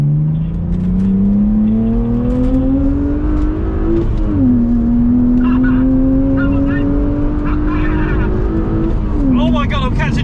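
A BMW Z4 accelerates hard at full throttle in second gear, its engine note climbing steadily with a brief dip at a gear change and then rising again. The engine is loud and continuous, with a little faint talk near the end.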